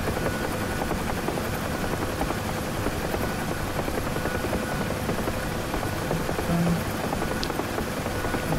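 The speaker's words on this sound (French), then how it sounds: "On va atterrir sur le pad ici." UH-1 Huey helicopter landing on a pad in the DCS flight simulator, with a steady loud rotor thump and turbine drone filling the whole stretch without letup.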